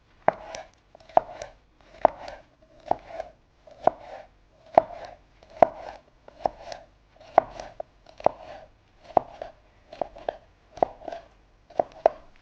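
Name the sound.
chopping fresh herbs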